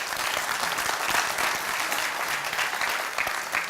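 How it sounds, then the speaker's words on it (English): An audience at a startup conference panel in Exeter claps for the panel speakers, a steady, full burst of applause from a roomful of people that holds throughout without voices on top. "Let's give them all a round of applause"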